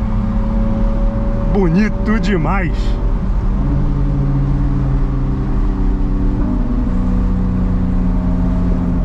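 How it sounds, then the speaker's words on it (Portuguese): A McLaren 570S revving hard on the street with a loud, popping exhaust, engine pitch swooping up and down in quick bursts before settling into a steady rumble, with people talking over it. "Tá cuspindo umas labaredas absurdas, escapamento simplesmente fenomenal."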